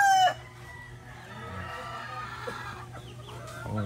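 Hens cluck softly and intermittently over a low steady hum, with a brief crow-like call at the very start; gamefowl hens of bulik and black pullet lines.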